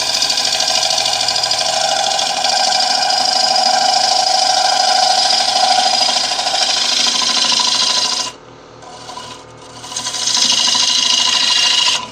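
A gouge hogs out wood on a wood lathe, making a loud, continuous rasping cut that drops away briefly near the end and then resumes.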